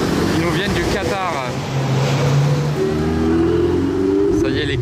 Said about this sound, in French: regardez ce convoi 918 GT2 RS